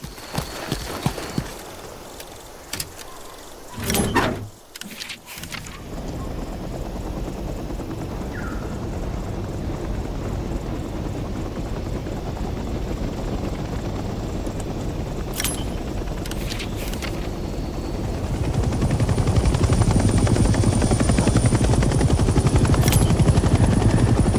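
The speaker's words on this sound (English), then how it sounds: "Let's start by getting in the pilot seat and turning the engine on." Helicopter engine starting up in Hell Let Loose Vietnam, a few clicks and thumps followed by a turbine whine and rotor noise that builds steadily into a loud, continuous roar.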